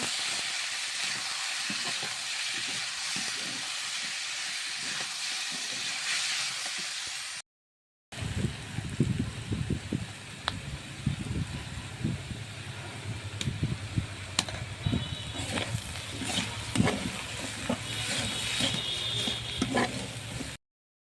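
Taro stems and jackfruit seeds frying with turmeric and salt give a steady hiss after a short silence, followed by continuous close crackling and sizzling with scattered sharp pops and light utensil clicks.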